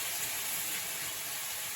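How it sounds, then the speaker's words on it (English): Banana pieces sizzle in honey in a very hot pot, a steady, soft broadband hiss that stays even throughout, close but quiet, with no talk. "So while my bananas sizzle into the honey and over the heat now,"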